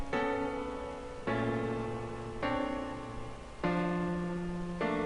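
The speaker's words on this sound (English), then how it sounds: "data from 3 different eggs being interpreted into musical notes, and they're being played as chords on this first piano channel" Piano chords built from egg data through MIDI, played on a single channel: four or five sustained chords, each entering with a sharp attack and ringing until the next, with no voice.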